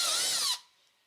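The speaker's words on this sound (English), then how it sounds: "go ahead and drill out your 1/4 inch holes" A power drill with a 1/4 inch bit bores holes through a template for a Honda Talon cab heater install, whining loud and steady at close range before spinning down and cutting off.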